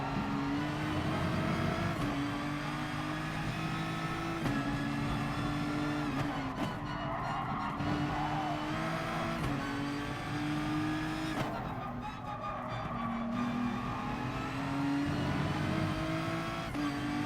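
A race car engine drones at high revs through a fast lap in a racing game, the pitch climbing and dropping with each gear change and corner, steady and close throughout.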